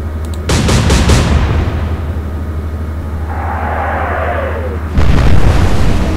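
Naval guns firing in the game Atlantic Fleet: a loud broadband blast opens, a rumbling decay and a faint whistling shell follow, then a second heavy boom lands near the end over a steady low engine drone.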